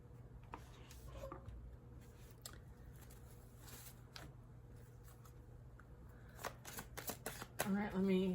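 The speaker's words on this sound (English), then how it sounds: "let me shuffle" Tarot cards are shuffled by hand in quick riffling bursts, soft papery flicks and slaps repeating near the microphone, ending with a brief spoken voice.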